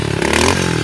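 A dirt bike is kick-started and its engine catches, a short loud burst of scraping and revving close by, with no voices.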